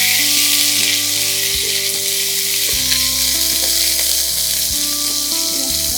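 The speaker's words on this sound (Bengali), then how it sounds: "আরে এটাকে হাই ফ্লেমে একটুখানি ভেজে নিতে হবে" Chicken frying in a mix of oil and ghee over high flame, giving a loud, dense, continuous sizzle with a low steady hum beneath it, and no speech.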